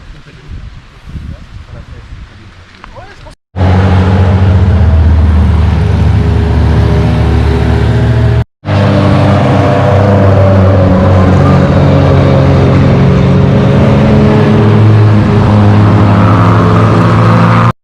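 A Wartburg car's engine runs loudly and steadily on a rally road stage of the Monte Carlo Historique, a dense constant drone that fills the clip after a quieter opening, broken by one brief cut.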